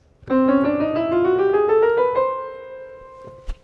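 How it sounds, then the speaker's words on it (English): A quick, smooth chromatic run climbs up the piano in many small half steps, then settles on a held note that fades, with a soft click at the end. "I would get something called the chromatic scale"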